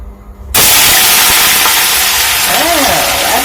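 Eggplant pieces dropped into smoking-hot oil burst into a loud, sudden, continuous sizzle that stays dense and steady, with a faint clink of a utensil near the end.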